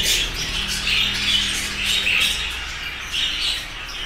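Young budgerigars kept for breeding squawk and chirp in close, loud, overlapping bursts, a dense flock chatter with a low hum underneath and no talking.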